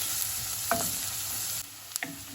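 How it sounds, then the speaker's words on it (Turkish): Onions and garlic sautéing in about a tablespoon of oil: a soft, quiet sizzle with a few spoon scrapes and clicks from stirring. "Güzelce kokusu çıkana kadar kavuruyoruz. Çok az yağla."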